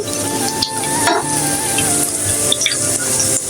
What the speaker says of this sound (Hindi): ऑयल हमने ऐसा लेना है कि हमारे ये अच्छे से फ्राई हो जाए नगेट।